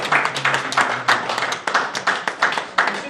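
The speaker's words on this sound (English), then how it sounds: "Give that a big round of applause" An audience at a business event gives a big round of applause, dense irregular clapping filling the room steadily throughout, with a faint voice low underneath.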